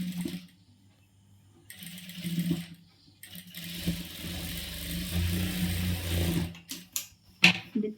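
A sewing machine stitches small pleats into a churidar in stop-start bursts of whirring, rising to a steady close-up run before halting with a few clicks.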